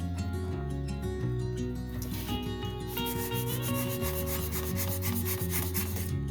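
A knife blade carves into XPS foam to shape a desert rock, making dense, continuous scraping and rubbing strokes close up, with a sharper rasping texture in the later strokes and steady loudness throughout.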